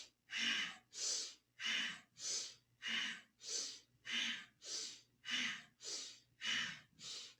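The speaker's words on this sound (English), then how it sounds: "Inhale left, exhale right." Powerful rhythmic breathing through the nose during a spinal twist kriya: about twelve strong, even breaths alternate inhale and exhale at a steady pace, close and loud with brief gaps between them.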